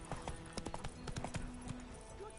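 The video game horse Roach trots along, hooves clip-clopping in an uneven rhythm of close, distinct hits over a soft ambient bed.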